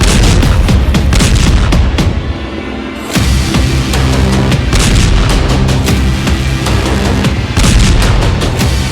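Repeated heavy explosions from Israeli IDF strikes on Hezbollah military positions in Lebanon boom one after another, loud and rumbling, with sharp impacts and a brief lull midway, and no voices.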